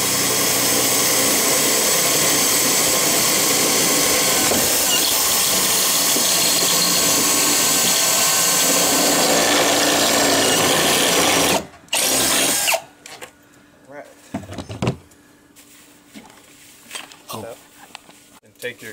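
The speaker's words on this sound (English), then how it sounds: "Take a 1/4 inch bit and drill." A power drill with a 1/4 inch bit bores through a metal frame on a jet ski dock, whining loud and steadily for about twelve seconds before stopping, followed by brief handling clatter.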